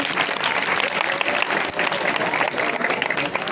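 Students in an Urdu high school hall during a parents and student awareness program applaud together, a dense, steady burst of many hands clapping at close range that fills the room, with faint voices underneath.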